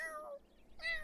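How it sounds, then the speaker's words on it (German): Two short cat meows from The Sims 4 video game, each a clear, close, tonal call separated by a brief pause, with no talking over them. "Miau, miau."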